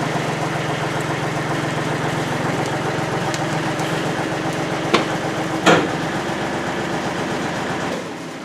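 A 1938 GMC truck's V12 engine idles steadily and close by, a low even rumble with a couple of brief clanks near the end before it quiets slightly.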